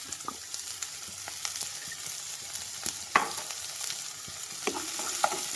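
Sliced onions with curry leaves sizzle and fry steadily in oil in a pan for brinjal curry, a continuous close hiss broken by scattered taps and scrapes of stirring, with no talk.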